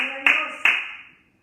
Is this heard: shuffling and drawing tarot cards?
no